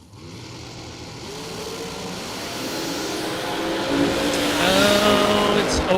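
A loud drag race car engine revs and roars continuously at a drag strip, building in intensity over several seconds.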